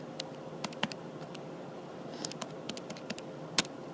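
Numbers being typed on a keyboard or calculator, a quiet irregular series of light key clicks over faint background hiss.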